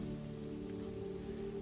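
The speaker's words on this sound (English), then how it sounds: "Imagine the hush of rain beyond thick stone walls." Steady rain falling outside thick stone castle walls, a soft, even wash of drops on surfaces that is faint and continuous, with no other sounds.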